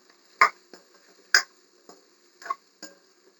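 Onions stirred in a cooking pan, sounding as a few sharp spoon-on-pan clinks and taps spaced irregularly, close and clear against a quiet background.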